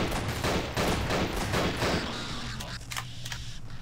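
Rapid gunfire while fighting zombies in the horror shooter Nightmare House 2: a dense, continuous stream of loud shots that thins into a few scattered, sharper cracks toward the end.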